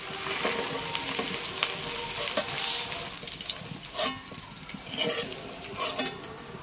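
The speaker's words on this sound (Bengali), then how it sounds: "পনিরটা হালকা ভেজে নিয়েছি" Paneer fries in hot oil in a home kitchen, a steady sizzle punctuated by a few sharp utensil clinks and scrapes against the pan, close and moderately loud with no talking.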